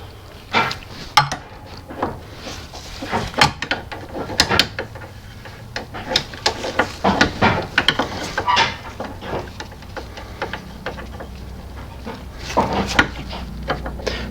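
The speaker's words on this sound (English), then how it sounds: "We're then going to adjust the smaller nut," A wrench turns the smaller adjusting nut on a car suspension, giving irregular ratcheting clicks and metallic ticks at close range, fairly quiet and without talk.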